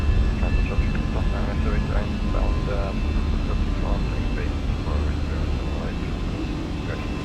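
Airbus A320 jet engines at high thrust, climbing away from runway 18 in a flight simulator, a steady loud roar with a broad low rumble that holds constant throughout while a voice speaks over it.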